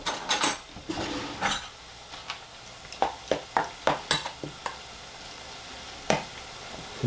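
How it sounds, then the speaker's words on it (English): Chutneys are stirred in a pan with a utensil, giving a run of sharp metallic clanks and taps, some clustered quickly together, with a light rustle between them and no talking. "Let's give those a stir."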